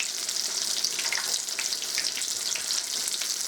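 Cod fillets coated in breadcrumbs fry in a hot cast iron pan, giving a steady, close, dense sizzle and crackle that holds evenly throughout with no talking.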